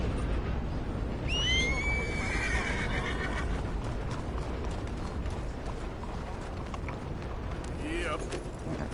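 A horse in the video game Red Dead Redemption 2 lets out a loud, shrill whinny, then a second fainter neigh near the end, over a constant dense ambient bed with hooves and mechanical clatter.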